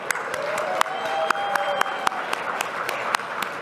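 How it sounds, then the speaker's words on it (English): An audience at a university law school alumni awards banquet gives brief, scattered applause, sharp individual claps over a murmuring room with a voice faintly present. "You guys did great with the efficient applause"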